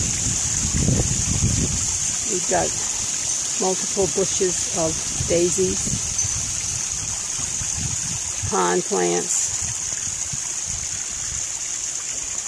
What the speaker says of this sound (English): This is the pond. You hear the sound of the waterfall,